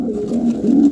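Pigeons and young squabs in a breeder's loft, hybrid birds, cooing up close in low, throaty rolling calls that run continuously and loud, with no talk.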